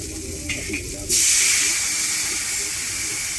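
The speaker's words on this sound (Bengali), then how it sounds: "এবার আমি এখানে জল দিয়ে দেবো" Water splashes into hot fried masala in a pan for a Bengali tilapia and green banana curry, setting off a sudden loud, steady sizzle that stays high and hissing to the end after a quieter kitchen background.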